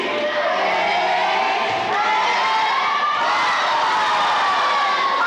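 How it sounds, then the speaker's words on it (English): A high school volleyball crowd in Minneapolis, Kansas, roars a retaliation cheer during a timeout against Belleville, steady loud chanting and shouting from a packed gym with young voices throughout. "Got a little retaliation cheer going on here."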